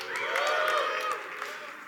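An audience cheers at an Angular meetup talk. The cheering is a sustained burst of voices and whoops that holds for about a second and then fades to a softer murmur.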